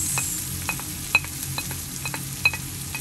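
Onions frying in a wok for pancit bihon, a constant soft sizzle with light, evenly spaced taps and scrapes of a spatula stirring, close and without speech.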